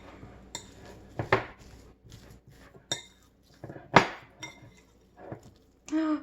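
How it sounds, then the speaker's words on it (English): A fork mashing and mixing an avocado and cucumber salad in a dish, giving a handful of separate sharp clinks and scrapes of metal on the bowl, close and irregular, with quiet pauses between strokes. "Let's get a fork. And we're just going to mash it all together and mix it really well."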